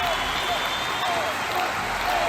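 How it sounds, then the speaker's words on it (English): Studio audience applause on a quiz show, a steady wash of clapping and crowd noise held evenly at moderate loudness throughout, with no pauses or voices standing out. "Round of applause for Hobbiton."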